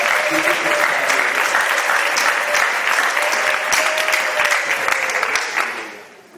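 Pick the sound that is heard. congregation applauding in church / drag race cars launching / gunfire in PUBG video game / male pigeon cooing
congregation applauding in church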